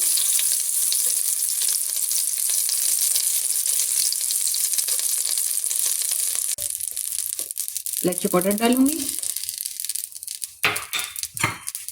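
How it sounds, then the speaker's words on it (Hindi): Butter with a little oil melting in a pan on the stove for coconut barfi, a steady bright sizzle that drops away midway, followed by a few clinks and scraping stirs. "अब मैं इसमें बटर ऐड करूंगी। जैसे ही बटर मेल्ट हो गया इसमें इलायची पाउडर डालूंगी"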